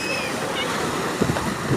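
Sea waves at Agni Theertham beach, a continuous wash of surf and wind noise with a few soft splashes near the end.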